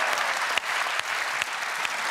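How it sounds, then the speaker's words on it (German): An audience applauds continuously for a couple of seconds, a dense wash of many hands clapping at once, fairly close and without speech. "Da gibt's Applaus."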